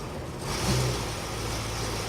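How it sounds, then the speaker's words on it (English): Car engine idling in park with an AOD automatic transmission, a steady low hum that swells slightly at first and then holds even, with no voices. "Start the engine in park and wait 15 seconds for the oil to circulate."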